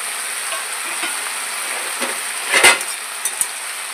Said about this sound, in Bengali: ভালো করে হলুদ নুনটা মিশিয়ে নেব সবজির মধ্যে